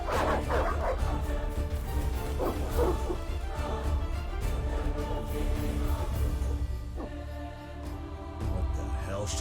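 Dogs bark and yip repeatedly in a tense village scene in The Witcher video game, fairly close and overlapping with game voices and ambient noise.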